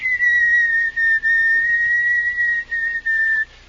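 A person whistles a tune, a clear, sustained melody in several phrases with brief breaths between them, close and alone, in a radio drama.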